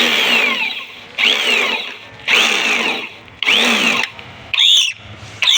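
A power drill bores mounting holes for a number plate on a new e-rickshaw (toto) at an auto centre, whining in four or five loud bursts with pauses, each pitch rising and falling as it bites.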